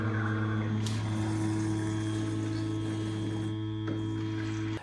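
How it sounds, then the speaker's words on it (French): An Ultenic MX50 docking station fills a robot vacuum's small internal water tank with a steady, close pump hum and faint mechanical clicks. No one speaks. "La station est en train de remplir automatiquement le petit réservoir d'eau interne du robot."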